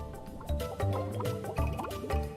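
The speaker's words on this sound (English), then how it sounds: "And push this rock in the water." A rock shoved into water in the video game Chrono Cross gives a watery splash and dripping effect, heard over the looping in-game music.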